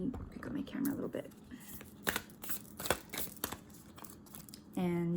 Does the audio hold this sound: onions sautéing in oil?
no